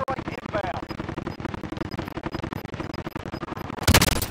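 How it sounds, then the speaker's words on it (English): Precision airstrike in Call of Duty Warzone on Xbox One: dense rapid gunfire-like bursts and booms pounding steadily throughout, ending in a louder crashing blast near the end. "Be advised, friendly precision airstrike inbound."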